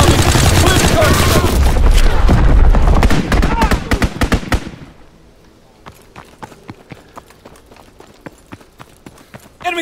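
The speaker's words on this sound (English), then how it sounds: "Enemy mortar fire incoming!" Mortar rounds and gunfire in a Call of Duty WW2 multiplayer battle crash in a loud, dense barrage of blasts, then thin out into sparse, distant bangs and clatter.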